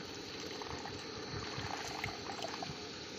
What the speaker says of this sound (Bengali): নতুন পদ্ধতি চুঙ্গি করে জল ঢালা হচ্ছে